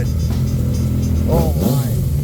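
A 2014 Yamaha FZ-09 three-cylinder motorcycle idles with a steady low rumble, then gives two quick throttle blips whose pitch climbs and falls, heard close by.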